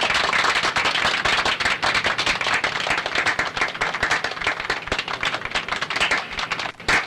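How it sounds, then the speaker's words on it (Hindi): Loud, sustained clapping and applause from a crowd around a minister in a dubbed Hindi film scene, dense overlapping claps with uneven rhythm throughout. "मिनिस्टर जी की ताली बजाने के अंदाज से लगता है कि वो खुश नहीं है"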